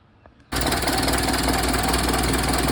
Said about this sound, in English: I'm ready to go ahead and try starting the engine now